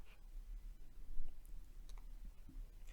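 A computer mouse clicks a few times, faint and sharp, spaced out over a quiet background hiss with no talking.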